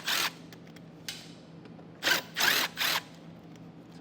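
Power drill backing out 5.5mm screws from the wheel well liner of a 2017 Ford Explorer, several short whirring bursts close by, separated by quiet pauses.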